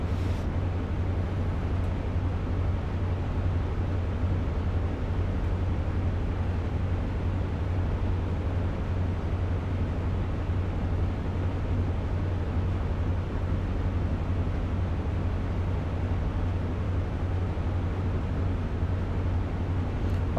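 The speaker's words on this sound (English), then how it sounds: "I just want to listen to this engine." A steady, droning HST diesel engine hum in Train Sim World 2 on the Great Western Express, a constant low rumble with broadband noise running unchanged throughout, with no talk over it.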